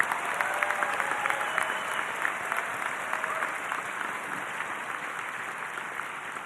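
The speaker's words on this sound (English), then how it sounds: "Let's give them a round of applause." Graduating class applauded by the audience at a high school commencement ceremony, a loud, sustained roar of many hands clapping across a large venue, with faint crowd murmur underneath.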